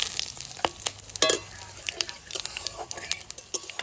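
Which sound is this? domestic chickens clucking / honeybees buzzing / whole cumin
whole cumin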